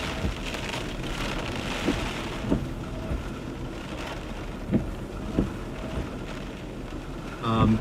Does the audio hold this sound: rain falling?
yes